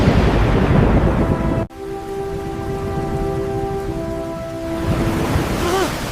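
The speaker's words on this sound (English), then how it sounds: "The storm is getting worse!" Heavy, constant rain in a thunderstorm with a brief sharp cut, then steady downpour under a sustained ringing tone.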